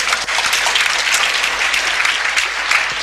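An audience at a church theology seminar bursts into sustained applause, dense steady clapping filling the whole stretch at a fairly loud, even level with no talk over it.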